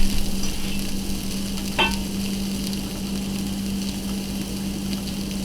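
Steady frying sizzle from a nonstick pan, with onions and garlic cooking, holding a continuous broadband hiss and a low hum, plus one brief clink near the two-second mark.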